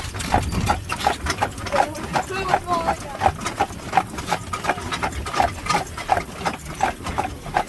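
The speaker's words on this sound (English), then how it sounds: "Come on, let's trot." Horse trotting while pulling an Amish buggy uphill on a Lancaster, Pennsylvania road, hooves clip-clopping in a steady, even rhythm with wheel and road rumble and people talking over it.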